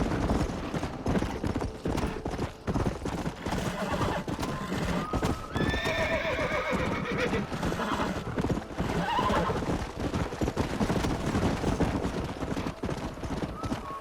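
Horses' hooves clip-clop steadily at a gallop in Red Dead Redemption while a horse neighs loudly partway through, amid a busy, dense mix of game sound.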